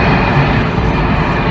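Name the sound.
airplane flying overhead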